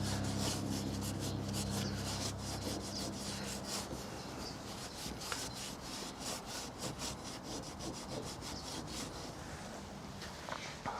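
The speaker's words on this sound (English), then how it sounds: "now you'll notice I'm not rubbing real hard. I'm just getting it down to the paint." Hand rubbing old trim glue off a car body down to the paint, a continuous close scrubbing and rasping sound in quick repeated strokes, steady and fairly loud with no talking.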